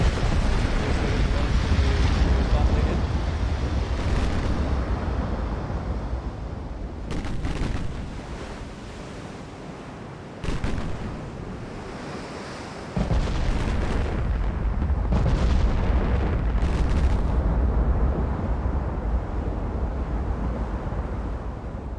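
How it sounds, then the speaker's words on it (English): In the naval warfare game Ultimate Admiral, 18-inch battleship guns fire in heavy booming salvos over a constant roar of sea and engine noise, several deep blasts spaced irregularly through the passage. "And 18-inch guns for good measure."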